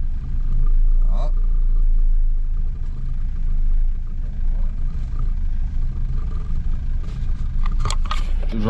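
A BMW 523i engine running rough and refusing to rev, giving a loud, steady low rumble at idle with uneven pulsing and a few faint clicks near the end.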